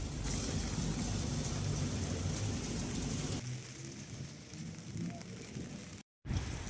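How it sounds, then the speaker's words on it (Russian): Rain falls steadily outdoors in Novorossiysk while strong gusty wind pushes through in loud, broadband waves that ease partway through, with a brief dropout near the end. "мокро, дождик, еще и ветер сильный, порывами, то есть, то нет"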